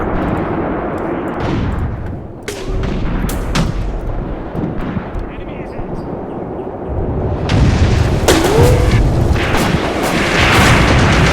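Artillery shells explode in a WW2 tank battle video game set in the ruins of Tunisia, 1943, with repeated loud booms and blasts over a dense rumbling battlefield that grows heavier toward the end.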